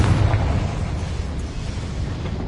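A blasting spell called Confringo goes off in a video game, a loud sustained booming blast with a deep rumble that holds steady for a couple of seconds.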